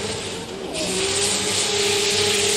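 Nissan S15 drift car with a 2J engine at a drift series round in Malaysia, roaring loud and close as it flicks into a corner, the engine note rising sharply with tyre squeal.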